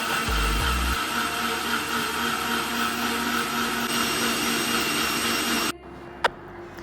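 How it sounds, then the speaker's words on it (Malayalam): An electric mixer grinds rice and coconut into appam batter, a loud steady whirring roar that runs for several seconds and then cuts off abruptly, leaving quiet kitchen noise and one brief knock. "അപ്പോൾ അതിന് വേണ്ടിയിട്ട് അരി തേങ്ങയൊക്കെ കൂടിയിട്ട് മിക്സിയിൽ അടിച്ചെടുക്കുകയാണ്"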